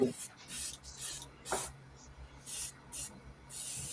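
An Avanti airbrush sprays in short, repeated hissing bursts of about half a second each, close and fairly quiet, with a faint low hum beneath and small handling noises between bursts.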